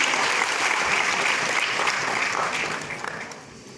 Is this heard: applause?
yes